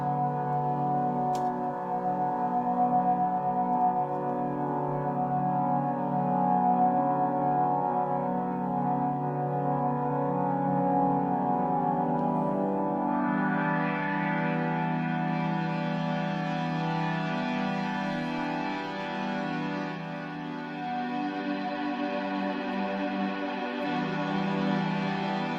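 A Eurorack modular synthesizer patched to imitate a train horn drones as a sustained, layered harmonic chord, brighter partials swelling in midway, with a faint ticking pulse underneath, steady and unbroken without talk.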